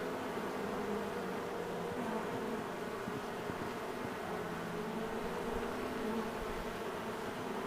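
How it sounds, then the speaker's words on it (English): A honeybee swarm hanging in a cherry tree hums as a steady, dense drone of many wings, a soft continuous buzz that stays even throughout with no voices. "So we came right over and shook the bees into the box"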